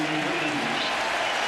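A sellout crowd of over 55,000 at a 2004 Red Sox vs Yankees baseball game roars and applauds on its feet in the bottom of the ninth, a dense, steady wash of cheering under a commentator's voice.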